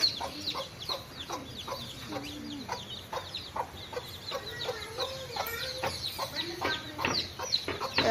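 Baby chickens in Sivaganga cluck and peep in rapid, overlapping bursts close by, with a person talking intermittently among them.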